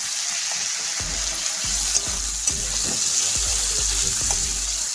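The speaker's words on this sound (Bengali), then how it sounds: "দেখুন পেঁয়াজটা ভাজা হচ্ছে।" Onion frying in a pan while cooking a village-style chicken kosha with tomato and green chilies: a loud, constant sizzle with repeated low thuds and scrapes of stirring, no voices.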